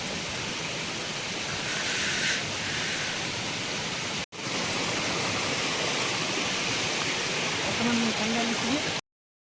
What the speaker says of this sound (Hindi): यहाँ हूँ आमर नेचुरल वाटर झरना पानी